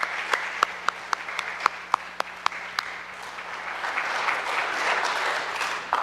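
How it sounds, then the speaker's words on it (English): An audience at a parish faith formation family night applauds, starting with a few sharp separate claps and swelling into dense, sustained clapping from the crowd. "let's give them a big round of applause for doing such an awesome job"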